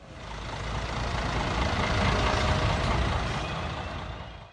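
Heavy vehicles idle and rumble at the İpsala border gate, a dense, steady engine drone with hissing air, swelling and fading over a few seconds without voices.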